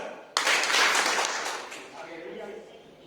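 A group clapping hands during a maths activity, a sudden burst of applause that swells and then slowly fades, with voices under it.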